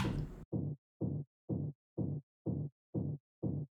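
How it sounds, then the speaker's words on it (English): A percussion sample pitched down 33 semitones acts as a kick drum layer, landing as seven deep, muffled thumps in a steady pulse about half a second apart, each followed by a silent gap, after a short burst of noise at the start. "some sort of percussion, I think, which I just pitched down 33 semitones"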